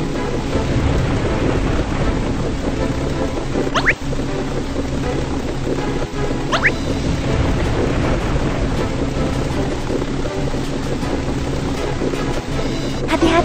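Thunderstorm in a BabyBus ship-steering role-play video game: steady heavy rain and rumbling wind fill the whole stretch, with two sharp thunder cracks near the start and middle, no voices.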